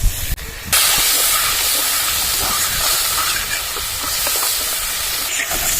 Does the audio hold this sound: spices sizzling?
yes